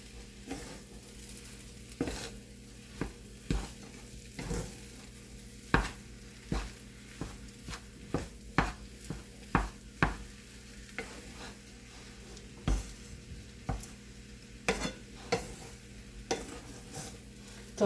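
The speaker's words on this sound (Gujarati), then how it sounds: "આ રીતે આપણે હલાવતા જ રહેવાનું છે." Kachori filling frying in a pan while a spoon stirs it constantly, with repeated scraping strokes at an uneven rhythm over a soft continuous sizzle, close and moderately quiet, no voices.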